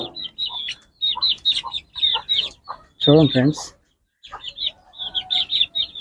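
Hens cluck and call in short bursts in summer heat, close and fairly loud, with a person talking between and over the clucks.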